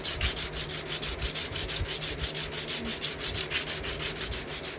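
Brisk, even strokes of 120-grit sandpaper rasping against a guitar nut blank, close and loud, repeating in a fast steady rhythm throughout with no talking.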